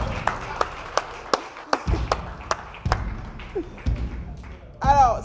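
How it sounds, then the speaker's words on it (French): Audience applause for kung fu masters from a Shaolin temple at a Chinese community event in Burkina Faso: sharp, scattered claps and thumps ring out near and loud, ending in a brief whistle-like burst. "Applaudissements pour eux."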